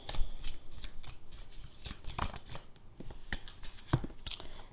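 Tarot cards are shuffled by hand for a love reading, with soft riffling and papery flicks in quick irregular bursts, heard close up with no voices.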